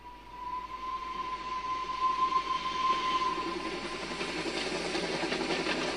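A train runs steadily with a low rumbling roll and airy hiss, and a sustained whistle-like tone rings through the first half before fading under the constant motion noise.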